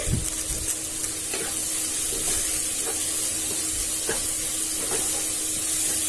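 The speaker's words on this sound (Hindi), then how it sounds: "अब इसमें हम थोड़ा हरा धनिया डाल देंगे इसे भी मिला देंगे" Fresh green coriander stirred into a sizzling baingan-aloo sabji over medium flame, giving a steady, even frying hiss with soft scraping and stirring sounds near the pan throughout.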